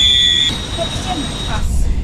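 Inside a train bound for Brussels, a steady rumble runs under a high metallic squeal that fades after half a second, with faint squeaks and clanks following; a voice talks briefly.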